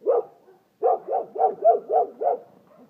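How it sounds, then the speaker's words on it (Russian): A dog barks in a quick run of about seven or eight medium-pitched woofs after an opening bark, fairly close, with no other sound around. "Вот и собаки прибежали."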